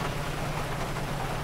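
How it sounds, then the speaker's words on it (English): Steady rain in a GTA V roleplay game, a constant even hiss of falling drops with a low rumble underneath, unbroken through the short stretch and heard alone. "We're just still standing in the rain right now,"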